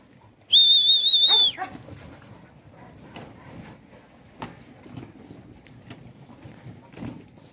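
A sharp, sustained high whistle for about a second is heard while a working kelpie herding dog moves about. Afterward there is faint rustling and scattered footfalls and knocks, and no clear talking.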